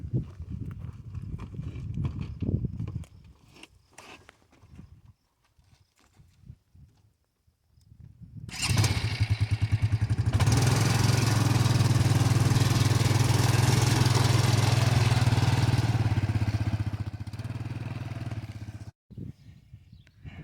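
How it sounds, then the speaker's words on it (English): A four-wheeler ATV engine bursts on loud partway through and runs as a steady close rumble for about ten seconds, then fades as the machine pulls away, with quiet farm ambience before and after. "So then we'll just take the four-wheeler and off we go."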